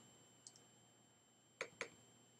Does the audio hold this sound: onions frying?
no